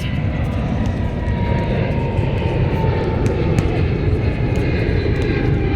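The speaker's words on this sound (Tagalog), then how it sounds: "May aeroplano po sa itaas." Airplane passing overhead during an outdoor basketball game, a steady broad engine roar holding at constant loudness throughout, with no speech.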